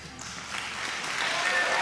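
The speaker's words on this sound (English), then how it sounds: "The campers cheer." Campers cheer and applaud in a Nightmare Time musical as a song ends, a broad wash of crowd noise that swells louder toward the close, with a few voices mixed in.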